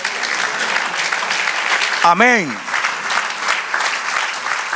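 A church congregation applauds in steady, continuous clapping that fills the whole stretch, with a single voice briefly calling out in the middle.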